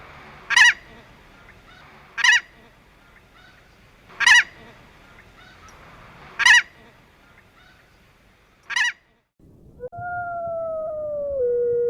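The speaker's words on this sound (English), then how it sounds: "a native Alaskan, the emperor goose, also known as the beach or painted goose" Emperor goose, a native Alaskan species, honking five times at even intervals, loud and clear in quiet surroundings, followed by a sustained electronic tone.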